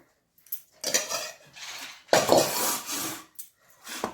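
A spoon scrapes a sticky oats dough mixture out of a wok into a bowl with close, rasping metal strokes in two main bursts separated by short pauses.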